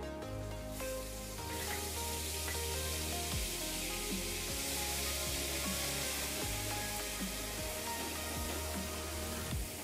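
Onion paste fries in oil over a low gas flame with whole spices such as cinnamon, dry chilli and bay leaf, giving a soft continuous sizzle close by with faint hum beneath and no talking.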